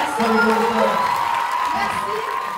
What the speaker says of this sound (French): On applaudit encore une fois, s'il vous plaît.